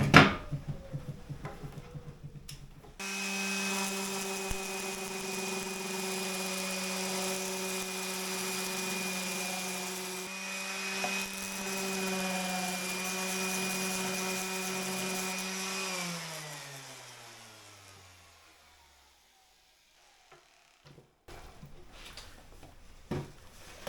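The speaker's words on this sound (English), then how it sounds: "Now we're going to get the palm sander and just finish this off." An electric palm sander sanding wood whirs steadily with a high motor whine for several seconds, then winds down to silence before light handling noises.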